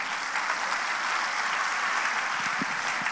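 A congregation at a church service applauds in praise of the Lord, a dense, steady roar of clapping from many hands that holds evenly throughout, with no voice over it.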